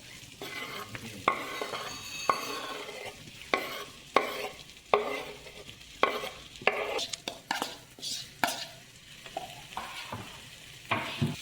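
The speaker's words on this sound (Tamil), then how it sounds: "இப்போ உங்களுடைய பன்னீர் மஷ்ரூம் இதெல்லாம் இதில் வந்து கொஞ்சம் நேரம் சாட் பண்ணிக்கோங்க." Paneer and mushrooms sauté in a pan with masala, the close, soft sizzle broken by repeated spatula scrapes and knocks against the pan in an uneven rhythm, with no talk.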